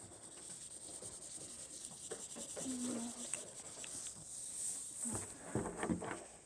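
An eraser rubs writing off a classroom board in a soft, scratchy, irregular scrubbing that builds into a few firmer strokes near the end, close and quiet over a faint background hum.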